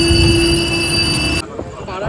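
The 13174 Kanchenjunga Express pulls into Dum Dum Junction railway station with a loud, close rumble and a steady high whine. The sound drops away sharply partway through, leaving a quieter rattle.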